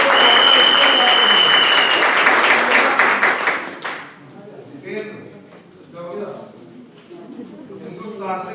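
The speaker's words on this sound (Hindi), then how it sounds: "और एक बार जोरदार तालियां फिर से दीजिएगा।" Audience at a presentation event clapping loudly and densely for about four seconds, then the applause cuts off and a voice speaks over a quiet room.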